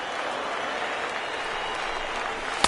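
Baseball crowd at a Rays vs Giants game applauding steadily during a late rally, a dense continuous wash of clapping and cheering from many people, with a small spike at the very end.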